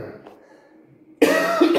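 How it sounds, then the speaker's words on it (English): A single harsh, loud cough bursts out abruptly after a quiet stretch of faint room noise, sharp at onset and lingering with a rough, gravelly tail. "Terrible cough."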